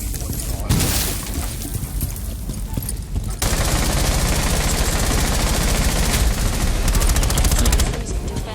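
Rapid bursts of automatic gunfire in the Rainbow Six shooter game crackle almost without pause, loud and close, with heavier volleys after the first few seconds and voices faintly mixed in.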